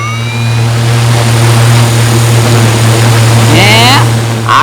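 Fan of a mobile homemade air cooler running in summer heat: a loud, steady, droning whir, close by and continuous, with voices speaking over it.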